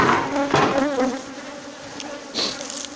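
Honeybees buzz steadily at a hive fitted with a feeder, a dense close drone with wavering tones and a few louder surges, no talking.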